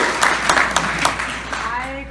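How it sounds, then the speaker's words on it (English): An audience at a business leadership talk gives a few scattered, sharp claps that ring out over a room, while a speaker's voice carries on underneath. "I think that deserves some applause."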